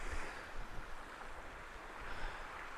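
Sea waves wash onto a beach between Khanom and Sichon in a soft, continuous hiss, faint and distant, with no voices.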